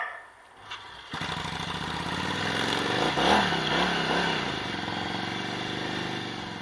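A motorcycle being bump-started: after a second of near quiet, the engine suddenly catches and runs loudly and close, with a brief rise in revs before it settles into a steady throb.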